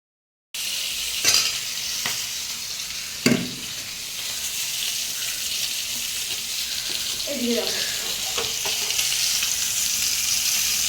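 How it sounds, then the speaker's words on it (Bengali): Fish sizzles and spits steadily in a hot frying pan during home morning cooking, with a continuous close hiss and a few brief utensil knocks near the start. "এখানে মাছ ভাজা হচ্ছে"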